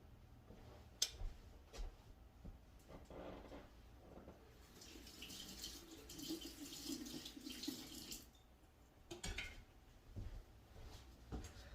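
Utensils stained with fabric dye are rinsed under a running kitchen tap. The water gushes quietly and steadily with a few brief splashes and clinks, and no one speaks.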